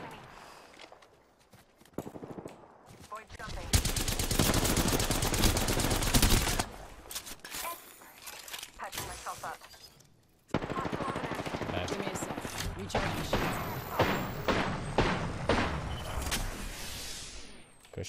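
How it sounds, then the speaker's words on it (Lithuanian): Gunfire in the video game Apex Legends erupts in dense bursts of rapid automatic shots and single cracks over about eighteen seconds, loud and nearly continuous, with players talking intermittently. "Ko ne čia šaudo?"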